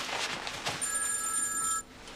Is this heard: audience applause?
no